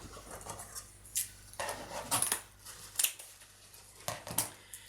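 Scissors snipping through tree topper bow ribbon, faint and close, with several separate cuts and soft rustling of the ribbon between them.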